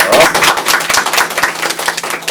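A studio audience at a talk show gives a short burst of brisk, close clapping that starts strong and then thins out.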